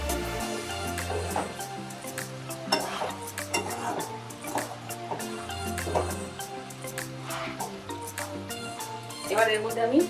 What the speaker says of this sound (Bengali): এবার সব কিছু পাস্তার মধ্যে ভালোভাবে মিশিয়ে নেব।